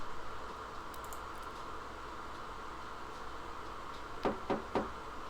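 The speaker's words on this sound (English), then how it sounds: "Knock knock." Three quick knocks rap on a door in the Frog Detective 3 video game, near and distinct, arriving near the end after a stretch of steady background hiss.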